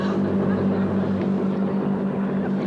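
A boat motor drones steadily close by with a constant, even hum that holds through the whole moment.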